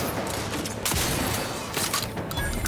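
A gun fires in the video game The Outer Worlds 2, rapid bursts of loud gunfire with a few heavier shots, dense and close over the whole stretch without speech.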